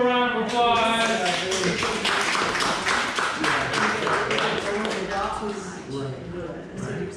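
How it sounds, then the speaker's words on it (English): A small group claps briefly for a child's loop-de-loop Mario drawing in a kids' art class, light and close, mixed with children's voices and talk. "Let's give him a round of applause."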